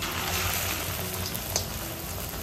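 Pitha cakes fry in a pan with a steady, faint sizzle that holds evenly throughout, with no other sounds.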